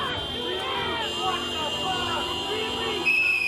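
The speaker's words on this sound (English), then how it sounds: "the whistles are helping these guys" Protesters blow shrill whistles in a steady piercing tone, with a sharper whistle near the end, over the murmur of a crowd while people talk close by.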